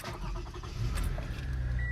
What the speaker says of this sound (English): So now we're gonna go start the car and put the heat on.